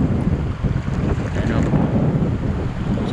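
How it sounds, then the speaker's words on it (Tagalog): Rough, churning water and wind roar steadily throughout, with low rumbling surges suggesting heavy waves heard from a boat. "malakas yung alon."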